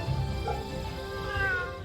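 A cat in the video game Fate/Samurai Remnant gives a single soft, drawn-out meow over a steady ambient game background.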